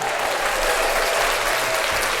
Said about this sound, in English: Okay, gotta give you a round of applause.